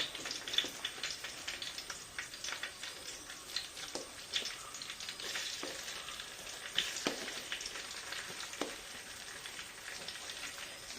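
Chili powder fries in vinegar and oil in a pan for a pepper and gooseberry pickle, giving a continuous moderate sizzle with intermittent light ticks and scrapes from stirring. No voices are present.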